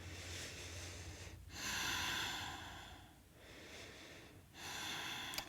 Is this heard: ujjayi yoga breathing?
yes